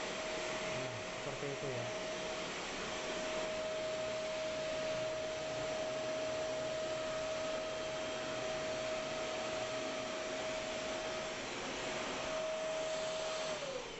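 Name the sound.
Idealife IL100V wet and dry vacuum cleaner blowing air at curtain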